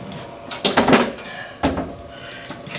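Laundromat dryer door popping off its hinges during a drum wheel bearing repair, a few sharp clunks and rattles of metal, a cluster of knocks followed by a single louder thud.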